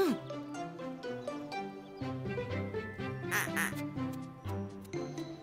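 Cartoon duck quacking in an animated Christmas sled race story, a string of nasal quacks mixed with bright musical tones and a busy soundtrack, fairly loud throughout.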